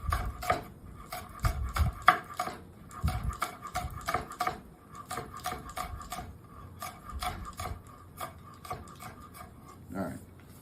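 A knife finely slices scallion whites on a cutting board, making a fast, steady run of crisp taps that pause briefly between strokes.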